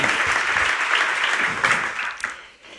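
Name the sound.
audience applause for guest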